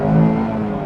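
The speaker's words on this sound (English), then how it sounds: "give it a little rev first. I think it makes an alright sound." Brief engine rev from a Mazda MX-5 ND2 roadster, a short low harmonic drone that swells and then eases off, close and fairly loud, with no talk.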